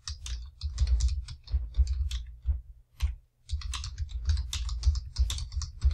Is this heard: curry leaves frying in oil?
no